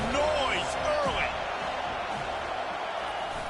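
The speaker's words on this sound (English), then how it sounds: "This crowd bringing the energy and noise early." Broad, steady crowd roar fills a stadium during an FSU college football game, running loud and continuous throughout, with some voices over it.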